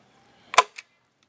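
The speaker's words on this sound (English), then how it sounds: "So we're just going to go around now and flatten it out and staple it down" A staple gun fires into gar skin being flattened and stapled down to dry, two sharp snaps in quick succession, close and loud with no talking.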